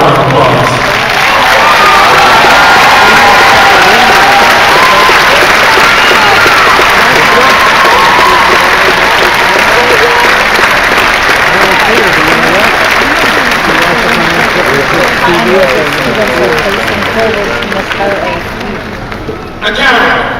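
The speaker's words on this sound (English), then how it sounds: "LCC a round of applause." A large commencement audience gives the faculty a sustained, loud round of applause, dense clapping mixed with scattered cheers and crowd noise that holds steady for about twenty seconds before easing slightly at the end.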